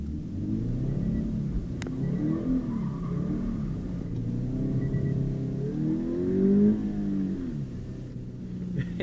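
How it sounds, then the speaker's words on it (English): A 2020 Subaru BRZ drives and drifts through hurricane conditions, its engine droning and rising and falling in pitch continuously from inside the car, with a low rumble throughout and no talk. "Let's go for a little drive in the BRZ"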